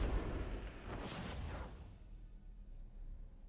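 A lava bomb bursts in a platforming video game as a single low, rumbling boom with a broad whoosh, then fades into a quiet, deep rumble.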